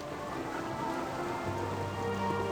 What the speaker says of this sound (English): It's raining and miserable out here.